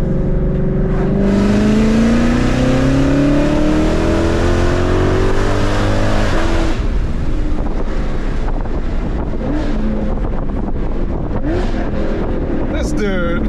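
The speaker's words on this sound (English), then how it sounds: "So I'm letting Brandon do a baby pull" A 2020 Ford Shelby GT500 pulls hard with a loud engine note rising steadily through the revs, heard from inside the cabin with heavy wind rush, then dropping away after a gear change into rushing road and wind noise.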